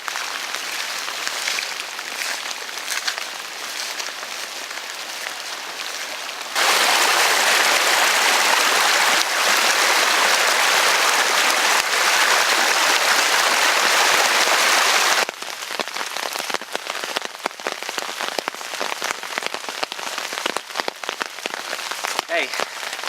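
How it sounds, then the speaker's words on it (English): Sleet and wet snow fall steadily through a winter storm in southern Indiana, ticking and hissing on surfaces nearby, with a louder, denser wash of precipitation noise through the middle stretch before easing back to a scattered patter. "Got a little bit of sleet, got some snowflakes about the size of quarters coming down every once in a while."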